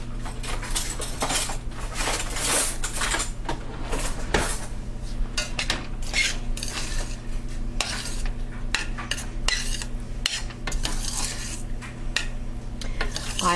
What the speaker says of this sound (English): fluff my rice